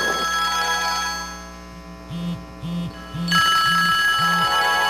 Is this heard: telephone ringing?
yes